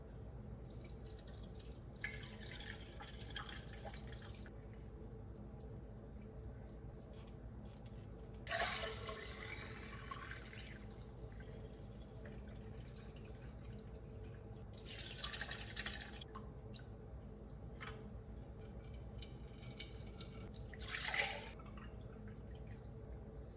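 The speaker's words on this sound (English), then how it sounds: "pour the broth through the cheesecloth" Quiet liquid pouring and trickling in several short bursts as chicken bone broth is poured through cheesecloth, separated by a faint background hum, with occasional soft drips and no speech.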